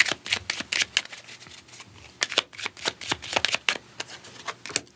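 Oracle cards are shuffled by hand during a quiet tarot-style reading, giving close, crisp riffling and slapping bursts in an irregular rhythm.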